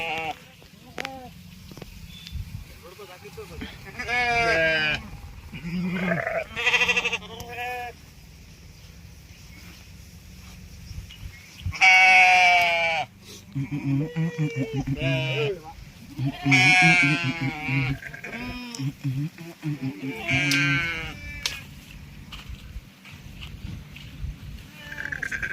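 Sheep bleating while grazing outdoors, several loud, wavering calls near and at middle distance, some overlapping, with quieter gaps between them.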